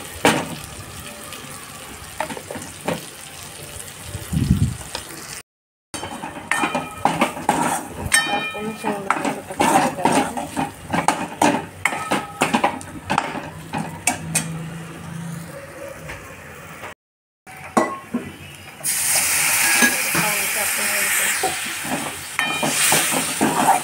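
Sheng drumsticks frying in a pan for a Maharashtrian shevga bhaji, stirred with crushed peanut powder and salt, with clattering utensil scrapes and clinks, water-like hiss, gaps of silence, and a steady loud sizzle near the end.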